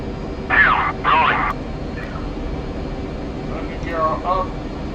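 Aircraft engine drones steadily in a flight simulator game as the plane takes off, a constant low hum under two short bursts of radio-like chatter and someone talking.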